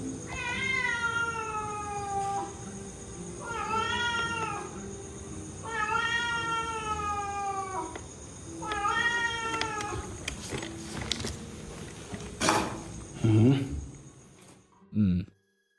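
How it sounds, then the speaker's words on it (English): A cat meows in several long, drawn-out wails, close and clear, over a low background hum, followed by scattered knocks and clatter near the end. "Was that it? A cat?"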